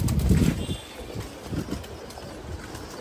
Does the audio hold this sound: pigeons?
yes